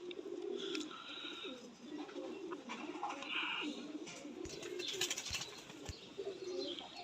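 A teddy pigeon cooing in soft, low repeated phrases nearby, with faint chirps and a few brief knocks and rustles in the background.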